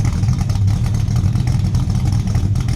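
A project car with straight-through mufflers and 2.5-inch GT-style tips idles, its exhaust giving a steady, deep rumble that sits close and even with no revving.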